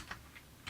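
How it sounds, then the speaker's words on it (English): Quick keystrokes on a computer keyboard as numbers are entered into a chi-squared table, three light clicks spaced unevenly across a short, quiet moment with no voices. "So let me do it with the keyboard, it'll be a little bit faster."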